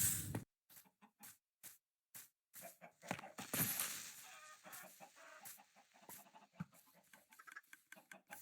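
Chickens clucking in a Minecraft chicken cooker farm, a string of short, sharp clucks and squawks in an irregular rhythm, fairly close and alone.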